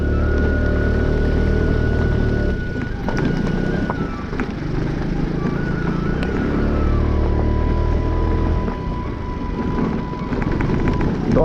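An Aprilia dirt bike ridden off-road gives a loud, continuous engine roar with rising and falling revs and a whining tone, close by throughout with brief dips in power.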